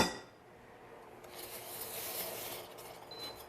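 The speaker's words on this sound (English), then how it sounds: "Just stir it, whisk it with your whisk, and all that cocoa powder will dissolve." Whisk stirring sugar, granulated sugar, cocoa powder and milk together in a bowl, a soft continuous scraping swish that starts after a brief clatter and stays close and faint throughout.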